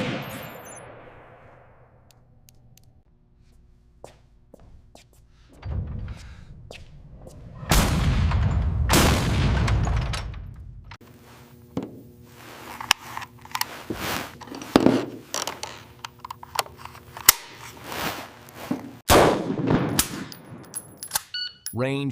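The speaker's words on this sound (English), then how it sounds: "Range hot. Firing sequence in 3, 2, 1." AK-47 rifle test-fired on a factory test range, with a loud dense burst of shots in the middle and scattered sharp reports and metallic clangs around it, some speech mixed in.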